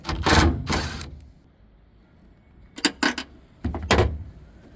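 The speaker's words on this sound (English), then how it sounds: "So we're going to open the tailgate" Tailgate of a 2023-2026 Ford F350/F250 pickup being opened, a pair of loud close latch clunks followed after a pause by a quicker series of metallic knocks and thuds.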